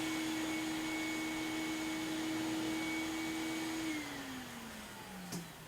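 A GEREFET 2-in-1 pet grooming vacuum and dryer runs steadily while grooming a cat, giving a loud continuous motor whine with a held tone that drops slightly in pitch near the end.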